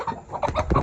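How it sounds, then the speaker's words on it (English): An escaped backyard chicken is being caught and gives a quick run of close, loud, agitated clucks. "You love me, you're my chicken."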